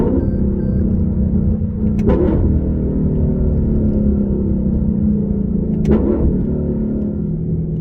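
A 2018 Lexus LC500's engine rumbles and revs loudly and steadily, with two sharp blips at the downshifts standing out near the start and toward the end.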